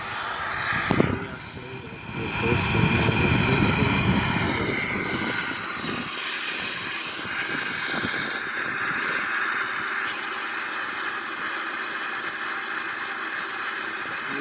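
Steady drone of an aircraft engine heard from inside the cabin during flight, with a louder rumbling surge early on before settling into a continuous hum.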